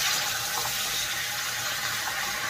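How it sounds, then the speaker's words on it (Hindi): Hot water poured into frying masala in a pan while cooking raw banana curry, a steady close rushing pour with a faint sizzle running throughout, no voices. "अब इसमें हम गरम पानी मिला देंगे"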